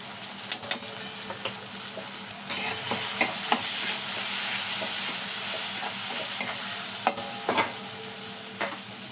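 Shredded cabbage with tomato, turmeric and chana dal is stirred and sautéed in a pan, giving a steady close sizzle broken by frequent scraping clicks of a spoon against the pan, with no voices.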